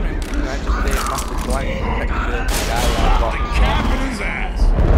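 Left 4 Dead firefight with bursts of gunfire and mechanical clatter over a dense, loud background of game noise, while people talk throughout.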